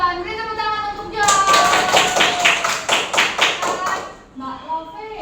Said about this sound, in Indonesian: Beri tepuk tangan untuk Joy.